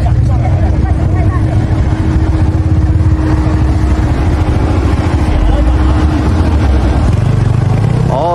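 An old Mitsubishi off-road vehicle labours up a steep slope, its engine droning loud and close in a strained, constant growl, with people talking over it.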